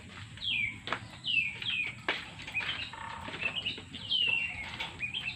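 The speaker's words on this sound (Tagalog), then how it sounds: "Pala magpatukaan ng aking alagang kalapati at hapon na." Pet pigeons gather to be fed in the afternoon, with close bird chirps and calls, a few wing flaps and light rustling around them, and no talk.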